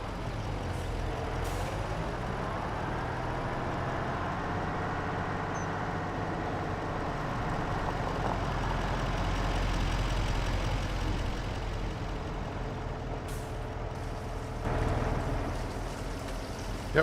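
A big tractor engine in Farming Simulator 25 drones steadily while pulling an 8,000 liter tanker, a low continuous rumble with shifting pitch, a few hissy air releases, and no voices.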